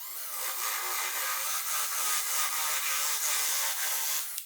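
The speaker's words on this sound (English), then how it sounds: "position the tip, the brad point of the Forstner bit directly into the center of where we" A Forstner bit with a brad point drills into a workpiece, a steady, loud whirring drill tone with a rough cutting texture that runs continuously for several seconds, alone.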